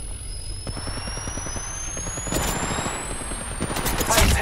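Bursts of automatic gunfire crackle in Apex Legends Mobile during a fight, rapid volleys growing louder toward the end over a constant electronic whine and game noise.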